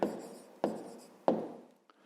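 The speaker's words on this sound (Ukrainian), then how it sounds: "Записуємо тоді відповідь." An answer is written out by hand for a fifth-grade maths exercise: three distinct scratchy pen strokes, each a short, sharp scrape that fades, recorded close and without talking.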